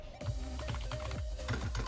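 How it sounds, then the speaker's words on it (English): Keys clatter on a cheap Amazon gaming keyboard, a close, continuous run of clicky, slightly hollow keystrokes with a few heavier thumps, no speech. "I am using this cheap Amazon keyboard that I got, or cheap gaming keyboard. It's not the best. It doesn't exactly sound great."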